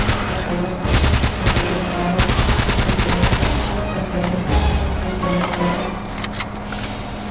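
Gunfire in Uncharted: Drake's Fortune Remastered, a video game: loud, close bursts of rapid automatic shots and single cracks over a busy in-game background, with a faint voice under it.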